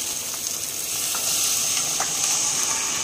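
Tomatoes frying in a pan with pigeon-pea lentils in a home kitchen give a soft, continuous sizzle with small bubbling pops, fairly quiet and close, with no talking.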